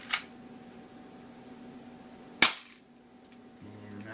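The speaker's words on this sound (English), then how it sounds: "Shooting 3 shots from each gun." Airsoft gun shots fired at a target, two sharp cracks a couple of seconds apart, close and moderately loud over a low background hum, with a faint mechanical click near the end.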